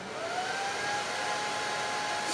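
A hair dryer runs steadily as a load on a 12 V 100 Ah WattCycle LiFePO4 battery, a continuous loud whirring blow with a faint rising whine, alone with no talk.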